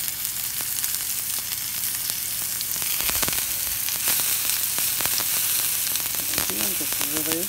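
Coral mushrooms frying in a preheated hot pan give a steady, close sizzle throughout, with a few scraping stirs and a brief faint voice near the end.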